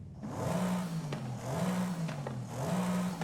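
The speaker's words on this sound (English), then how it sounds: "Bit more of a raspy intake sound." A Mercedes-Benz E63s engine in Forza Horizon 5, fitted with an aftermarket air filter, revs up and down in three repeated rising-and-falling surges, a raspy intake growl, fairly close and steady.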